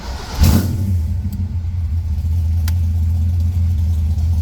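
Hot, heat-soaked carburetted car engine cranking and firing up with a sharp burst, then settling into a loud, steady idle with a low rumbling drone, close by.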